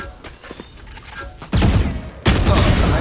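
Two loud bursts of rapid automatic gunfire from a Valorant match erupt one after another, each lasting under a second, following a quieter stretch of faint in-game sounds.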